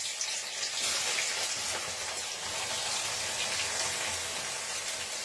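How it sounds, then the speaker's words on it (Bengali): Cauliflower, carrot and peas, first steamed with salt, fry in hot oil in a pan, giving a steady close sizzle and hiss that holds evenly throughout with no talking. "এইটা আমি এই তেলের মধ্যে দিয়ে একটু ভাজা ভাজা করে নেব"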